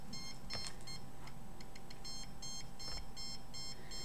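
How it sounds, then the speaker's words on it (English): A handheld microwave detector aimed at a computer emits a steady run of repeated electronic beeps, evenly spaced and fairly close, over a constant background hum. "my microwave detector going off when it's pointed to the computer"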